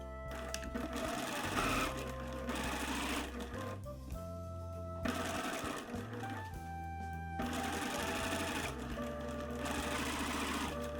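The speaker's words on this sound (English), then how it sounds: "first pin the bias tape right sides together along the neckline and sew at 1/4 inch" A sewing machine sews bias tape along a dress neckline in several bursts of steady running with brief pauses between them, close and continuous over about eleven seconds.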